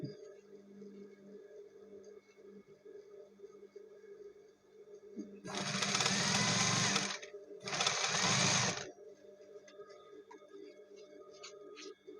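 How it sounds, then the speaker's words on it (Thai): A sewing machine stitches elastic onto fabric during a garment repair, running in two loud, close bursts separated by a brief pause, over a faint steady hum. "เย็บโดยไม่ทับยางยืด"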